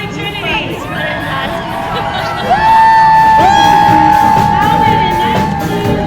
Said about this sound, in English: A warm round of applause to the Cathedral School of the Holy Trinity